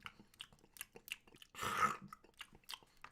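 Someone chews a pickle in wet, crunchy bites that repeat in a steady rhythm, close and fairly quiet, with one longer, denser crunch in the middle.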